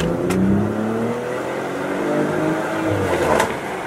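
A car engine with a stock exhaust revs up and settles with a smooth, close throaty hum, rising and falling over a few seconds.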